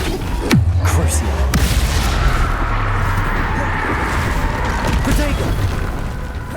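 Flipendo spell impacts in Hogwarts Legacy: a dense, booming wash of magical blasts and rumbling combat noise with sharp hits near the start, loud and continuous throughout.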